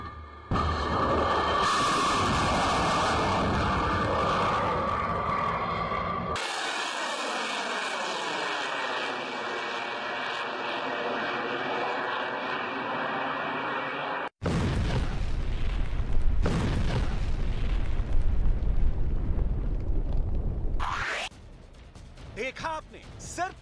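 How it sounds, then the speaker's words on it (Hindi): A Russian military missile launch during a training exercise in Belarus: a loud roaring blast and sustained rumble, followed by further booming explosions as the target is struck, with a narrator speaking over parts of it. "सिर्फ 25 सेकंड में मिसाइल ने अपने टारगेट को तबाह कर दिया है"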